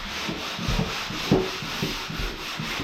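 Wood is sanded by hand with sandpaper during a mini kitchen build in a living area: quiet, close, scratchy back-and-forth strokes in an uneven rhythm, with no talk.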